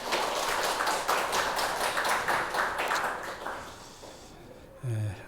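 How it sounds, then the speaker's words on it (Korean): A church congregation gives a dense burst of applause that carries on for several seconds and then dies away, followed by a brief low tone. "감사와 영광의 박수 올려드리겠습니다."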